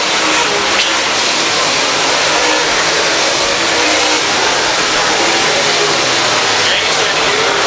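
Several USRA B-Mod race cars roar around the dirt oval at Humboldt Speedway on the last lap, a dense, steady wall of engine noise with crowd and announcer sound mixed in throughout.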